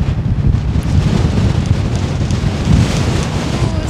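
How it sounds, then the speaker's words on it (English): Wind buffets a microphone outdoors in a steady, loud, rumbling roar that fills the whole stretch without pause, with no talking. "Why is there so much wind today?"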